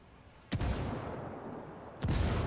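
Grenade blasts in the video game Ghost Recon Wildlands, two loud booming explosions about one and a half seconds apart, each followed by a rumbling tail.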